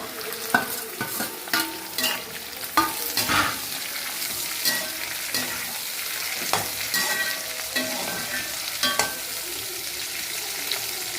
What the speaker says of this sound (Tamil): வெங்காயமும் மிளகாயும் நல்லா வதங்கணும்.